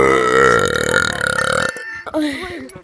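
A person lets out a long, loud, close burp lasting over a second and a half, then starts talking right after it.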